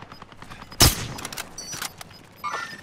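Gunfire in the Warzone video game, set in a tundra area: a sharp loud shot burst followed by scattered quieter shots and a later crack, with faint radio chatter in the background.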